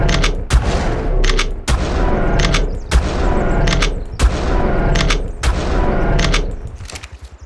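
Shotgun firing buckshot in ARK Survival Ascended, five loud booming blasts spaced roughly a second apart, each with a sharp crack and rumbling tail, followed by mechanical reload clicks at the end.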